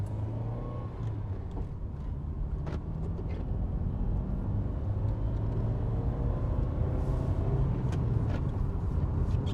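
A classic car's engine hums low and steady from inside the cabin while pulling onto Seaview Road, with constant road rumble and faint passing traffic around it.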